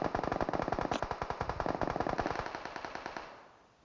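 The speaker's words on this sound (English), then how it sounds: "What are they shooting at?" Rapid automatic gunfire from a video game rattles in a steady, fast burst of evenly spaced shots for several seconds, loud and close, then fades out at the end.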